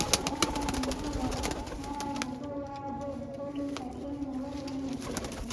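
Pigeons coo in soft, repeated low calls among sharp clicks and rustling, with a faint voice in the background.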